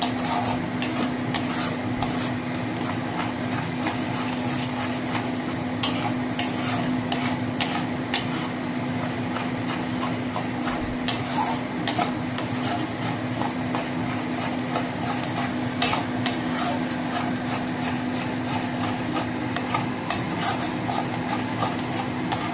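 Scrambled egg is stirred constantly in a pan, with continuous scraping and tapping of a spatula that repeats steadily over a faint hum.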